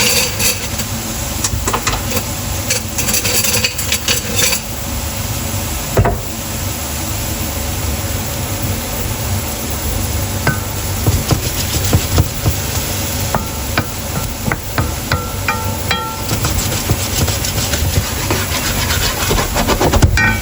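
Shallots sizzle steadily in a hot pan over lowered heat, a constant broadband hiss with scattered crackles and small pops running throughout, loud and close with no talking.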